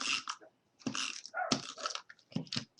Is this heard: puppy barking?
yes